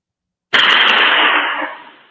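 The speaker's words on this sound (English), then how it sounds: "That was the first gunshot." One sudden, loud gunshot cracks out of silence, followed by a lingering echo that slowly trails away.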